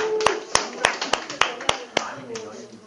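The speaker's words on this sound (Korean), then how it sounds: "박수 치면서 시작하도록 하겠습니다." Rhythmic clapping from an audience at a lecture, about nine sharp, evenly spaced claps in unison, with a voice talking over them.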